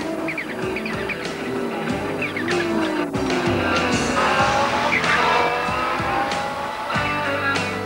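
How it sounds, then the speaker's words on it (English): Modified race cars from the 1992 Wesbank Modifieds season, led by the Bosal Audi on a restart on a dusty track in Cape Town, with engines roaring continuously and tires squealing as the pack passes close and loud. "Aberdein and the Bosal Audi led the cars away on the restart amidst a curtain of dust"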